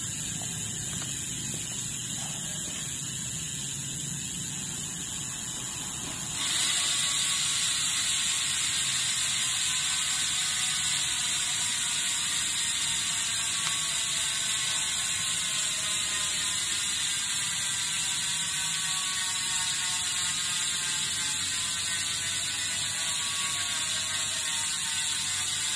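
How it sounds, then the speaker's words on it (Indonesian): A Rujitsu G3 bicycle freehub ratchet spins with a dense, rapid clicking buzz that grows louder early on and then holds steady and close for a long stretch, with no talk. "Coba kita langsung dengarkan suara dari Rujitsu G3."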